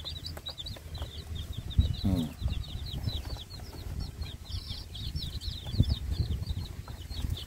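Newly hatched chicks, six of them, peep in rapid high chirps close by, a continuous chorus over wind noise and handling bumps, with a brief flutter partway through.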